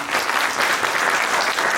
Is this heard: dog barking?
no